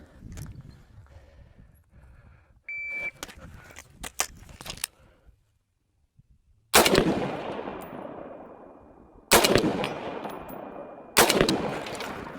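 Sniper rifle shots in a first-person shooter game, three loud sharp cracks each trailing into a long fading echo, preceded by quieter clicks and rustling handling sounds.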